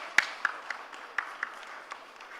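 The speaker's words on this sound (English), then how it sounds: "Let's give him a warm round of applause." Sparse, scattered clapping from a small conference audience at a business conclave, a handful of distinct claps over a soft hall ambience.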